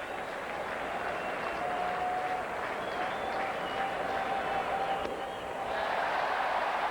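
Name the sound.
baseball stadium crowd cheering, Expos game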